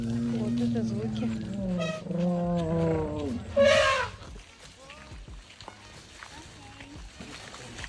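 Elephants in Thailand giving loud, wavering trumpet calls, then a sharp high blast that cuts off into quieter background noise.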